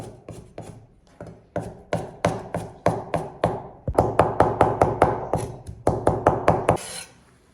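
A knife minces smashed ginger on a chopping board with a steady series of crisp, close chops. The pace speeds up into a quicker rhythm before the cutting stops.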